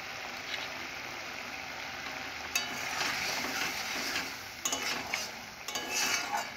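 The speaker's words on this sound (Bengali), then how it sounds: "ঢেঁড়সটাকে ভালো করে ভেজে নেবে আপনারা" Okra fries in a pan with a dry chili, giving a steady soft sizzle with occasional stirring scrapes and clatters growing busier toward the end, no voices.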